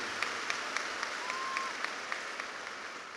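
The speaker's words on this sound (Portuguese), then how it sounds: "Forte aplauso para o Bishop T.D. Jakes" Audience applause at a church conference for Bishop T.D. Jakes, a steady wash of many hands clapping with scattered sharper claps standing out, sustained throughout at moderate loudness.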